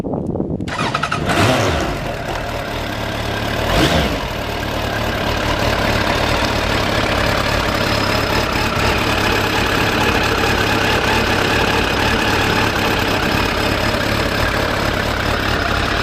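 An oil-cooled, carburetted Suzuki Bandit motorcycle engine cranks briefly, catches and fires up, then settles into a steady, loud idle close by that continues to the end.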